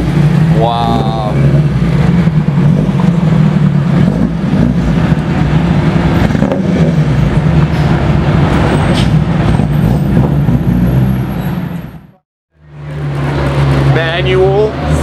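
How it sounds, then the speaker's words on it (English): A manual Ferrari 360 engine drones loud and steady for about twelve seconds, cuts out abruptly, then returns with a rising rev, with traffic-like rumble and voices mixed in. "Manual Ferrari 360."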